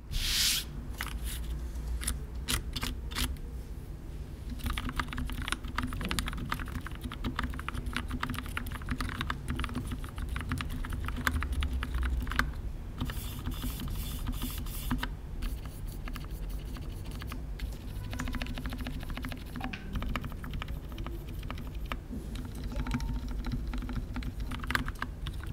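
Modded Keychron K6 mechanical keyboard typed on continuously, a dense patter of close keystrokes with smooth, muted clacks and occasional louder bursts, no voices.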